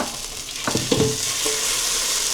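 Beans going into a hot pan set off a bright, steady sizzle close by, with a few short knocks and stirring scrapes early on.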